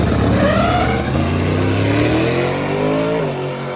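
Turbocharged drag race car, a Zephyr, launching hard with tires white-smoking: a loud, continuous engine roar whose pitch climbs steadily for several seconds, with no talk.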